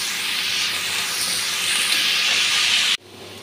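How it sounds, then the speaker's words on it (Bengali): Potatoes fry in oil with turmeric and salt, a loud steady sizzling hiss that cuts off abruptly near the end, leaving a quieter hum; no one speaks. "এখন আলুটা ভেজে নিচ্ছি।"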